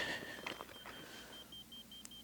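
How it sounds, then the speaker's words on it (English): A laser level receiver on a grade stick emits a slow, evenly spaced series of faint electronic beeps at a house foundation site, over quiet background noise. "So we got a slow beep on that one."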